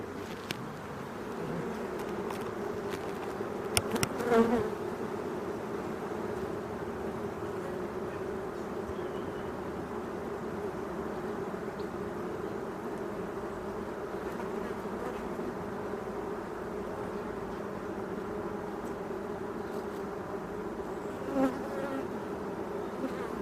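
Honeybees buzz steadily around an open WBC hive during an inspection, a continuous close drone with a few brief knocks and clicks from handling of the hive.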